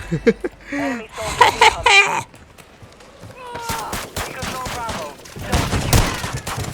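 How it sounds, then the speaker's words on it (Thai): A sniper rifle fires at close range in Call of Duty Warzone 2.0, with loud bursts of gunfire crackling amid other game sounds while voices talk excitedly over the action. "มึงเอาสไนยิงระยะใกล้ไอ้บ้า"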